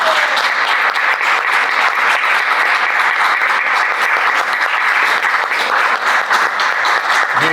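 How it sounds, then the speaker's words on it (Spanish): Dense, sustained applause from a lecture audience after a conference talk in Guayaquil, loud and even throughout with no break, many hands clapping together close up. "Mil gracias por sus aplausos."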